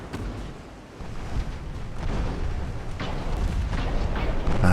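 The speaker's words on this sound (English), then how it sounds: "took a torpedo to the stern on the Mets" Torpedo striking a warship's stern in the naval game Ultimate Admiral: Dreadnoughts, a deep booming explosion amid ongoing rumbling battle noise that swells louder toward the end.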